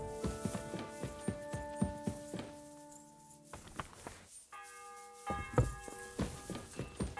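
Bells ring repeatedly in a medieval-style video game, each strike clanging and then leaving a sustained tonal hum, layered with irregular knocks and thumps, with a brief quieter gap midway.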